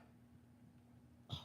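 A single short cough bursts out near the end, close and fairly loud, after a stretch of quiet room hum.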